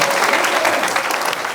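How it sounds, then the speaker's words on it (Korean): Audience at a book concert applauding steadily, a dense even wash of clapping filling the whole moment without a break. "두 분께 함께 격려의 박수 보내주세요."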